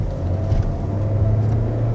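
A 2021 Kia Seltos S with a 2-liter 4-cylinder engine accelerating, a steady low engine drone with rising rumble heard from inside the cabin, loud and continuous.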